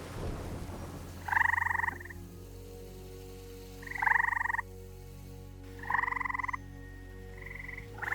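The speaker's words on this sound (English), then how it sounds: "gray tree frogs were everywhere, and I mean everywhere." Gray tree frogs call in a garden being turned into a wildlife habitat, loud musical trills repeating in separate bursts every couple of seconds close by, over a low background hum.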